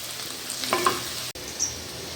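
Chopped onions frying in white oil in a wok, a soft steady sizzle with a few scraping stirs and a sharp clack partway through, close and fairly quiet with no talking.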